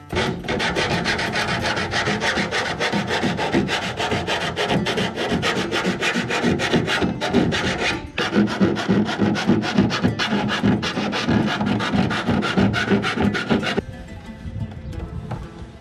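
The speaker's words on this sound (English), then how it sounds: "Here you can see Lockie filing down the sharp edges like we forgot to show you the first time" A metal file rasps back and forth over the sharp edges of a cut opening for a roof fan install in a DIY camper van, with dense, rhythmic scraping strokes that continue steadily throughout and soften near the end.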